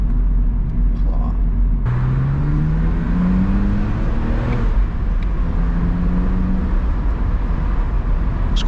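A BMW Z4 E85 convertible is driven with the top down, its engine note rising in pitch through several accelerations over a steady low rumble and wind noise.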